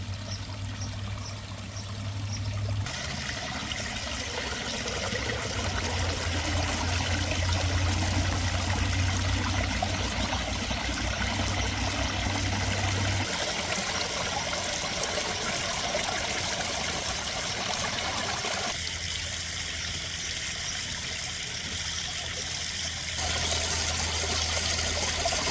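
Water pours and trickles steadily through the drainage of a backyard pond at full flow, a continuous close burbling stream that shifts slightly in tone across the clip, with no one speaking.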